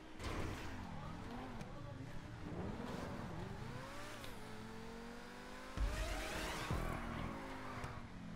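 A car in GTA 5 Online during a stunt race drives with a revving engine whose pitch climbs and falls through gear changes, joined by brief tire noise, fairly faint, with people talking over it.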